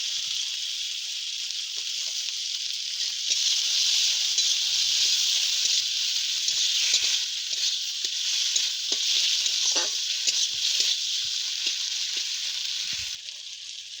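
Coriander powder and chopped tomato fry in ghee in a pan for koi fish curry, a steady loud sizzle throughout with light stirring scrapes and clicks.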